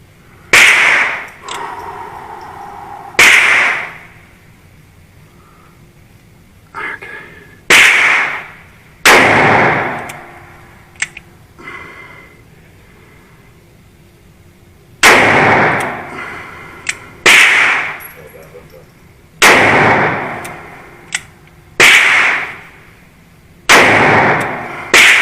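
A Smith and Wesson Model 28-2 Highway Patrolman revolver fires Magnum rounds outdoors, about a dozen loud, sharp cracks with echoing tails, irregularly spaced in clusters with pauses between.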